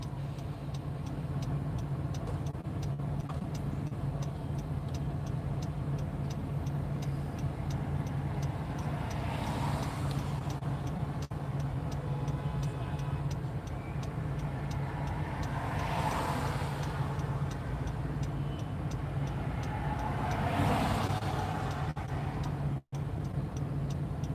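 Road traffic in Wadena, Minnesota, heard from inside a vehicle: a constant low engine drone with three passing vehicles swelling and fading at intervals, plus faint ticking.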